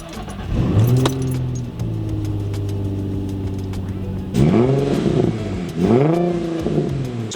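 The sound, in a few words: car engine starting and running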